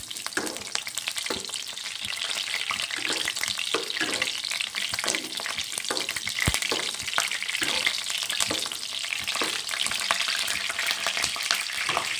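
Two stalks of lemongrass hit a hot oiled pan while cooking coriander leaf rice, giving a steady close sizzle and crackle with occasional stirring scrapes throughout and nobody talking.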